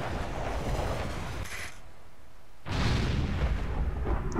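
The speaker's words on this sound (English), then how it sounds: "Oh, it's an air fuel missile." Air fuel missile detonating in the video game Ghost Recon Future Soldier, a heavy rumbling blast that dips briefly, then surges back in a loud, roaring wave.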